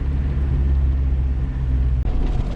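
A Mazda MX5 Miata budget drift car driving, its engine a loud, steady low rumble heard from inside the cabin, with a brief dip near the end.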